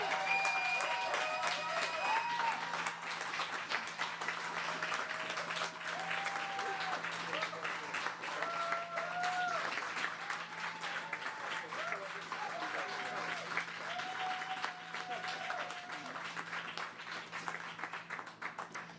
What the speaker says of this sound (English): please join me in applause for the Leader of the Green Party of Canada, Annamie Paul.